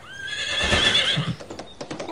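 A horse gives a loud, close whinny that rises and trails off, then a few soft scuffing hoof sounds follow.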